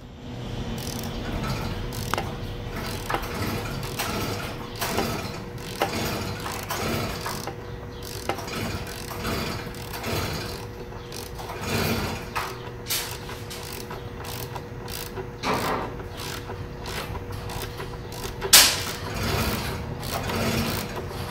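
Suspension spring preload being adjusted on a 2018 BMW S1000RR, giving a steady run of mechanical clicks and ratcheting scrapes at close range, with a few sharper knocks standing out.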